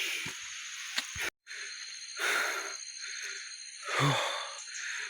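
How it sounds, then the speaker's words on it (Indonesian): Heavy, wheezy breaths from a person hiking up a steep uphill trail, several long rasping exhales close to the microphone with an airy hiss between them. "Ngos-ngosan cuy."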